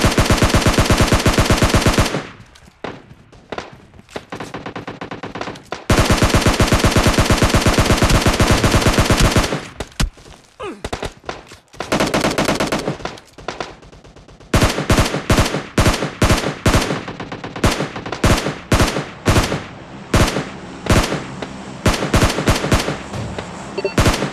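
Video game gunfire in long sustained automatic bursts, then rapid choppy short volleys, loud and close with brief gaps between strings of shots.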